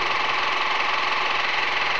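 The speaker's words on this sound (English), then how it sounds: "And now for the first attempt at our Explosion Engine." A homemade explosion engine on its first run attempt makes a continuous, loud, steady hiss-like mechanical noise with no distinct beats.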